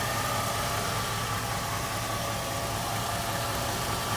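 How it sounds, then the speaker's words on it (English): A 1949 Cadillac engine idles steadily and smoothly, droning evenly throughout, a low continuous rumble with no revving or other sounds. "Look how smooth that engine is."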